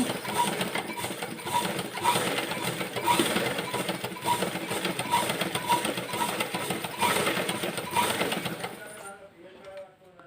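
A sewing machine slowly stitches a zigzag seam on a saree with a continuous close whirring and clatter. Faint rhythmic ticks run through it, and the machine stops near the end.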